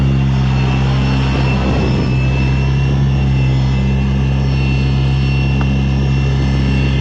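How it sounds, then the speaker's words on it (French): A Flywing FW450 V3 RC helicopter hovers and manoeuvres nearby, its motor and rotors giving a steady, loud whine with a constant drone that holds for the whole stretch. "donc ça c'était un hélicoptère bien entendu qui peut être utilisé en mode sans GPS"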